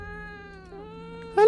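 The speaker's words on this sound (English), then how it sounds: "Oh, it's a cat." A cat in the horror game Fears to Fathom: Woodbury Getaway gives a long, steady, tonal meow, alone and fairly quiet, ending in a brief sharper burst.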